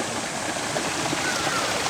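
Water pours steadily from a pipe in Mizumoto Park, Japan, a continuous close rushing and gurgling that holds at an even level throughout, with no voices.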